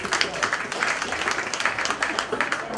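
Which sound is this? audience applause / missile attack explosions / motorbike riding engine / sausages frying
audience applause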